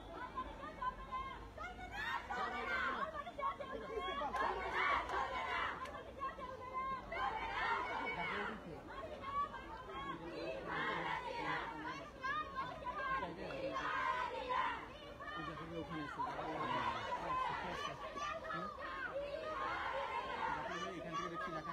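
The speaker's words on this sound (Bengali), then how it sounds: "এখান থেকে আপনারা দেখছেন এখানে তারা কিন্তু বিভিন্ন স্লোগান দিচ্ছেন" Crowd at a student wing press conference at Eden College, Dhaka, shouting slogans amid a commotion, a dense steady roar of many voices chanting and yelling in bursts throughout, with chatter layered in.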